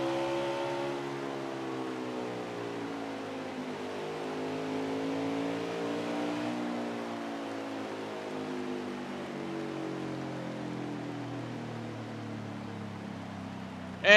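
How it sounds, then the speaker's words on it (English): A NASCAR truck engine in NASCAR Heat 4 at Bristol drones continuously with a smooth harmonic whine, pitch slowly rising and falling as it revs around the track, steady and alone. "But most of all, listen to the engine on this thing."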